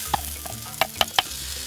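Washed rice stirred into garlic frying in a pot, giving a soft steady sizzle with a few sharp scraping clicks of a spoon against the pot.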